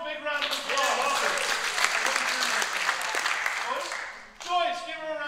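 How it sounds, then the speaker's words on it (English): Audience claps for a volunteer at a Christmas program, a full burst of applause with voices talking over it at the start and again as the clapping fades. "Walter, a big round of applause"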